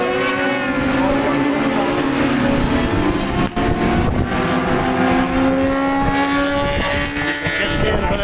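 Superbikes racing at the Kirkistown circuit in a closely bunched group, engines roaring continuously with rising and falling whining pitch as they brake into the hairpin, loud and near, with a commentator talking over them.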